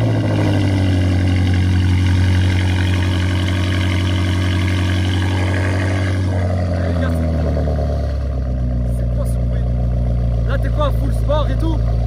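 Deep, loud exhaust rumble from an 800+ horsepower BMW M8 with straight-pipe exhaust, steady at first and then changing character about halfway through, with voices underneath.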